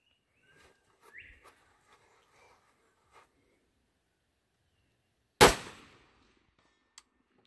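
A single sharp rifle shot from a .224 Valkyrie firing Hornady 88 grain ammunition cracks loudly and decays over about a second, preceded by quiet outdoor shuffling and faint handling sounds, with a small tick afterward.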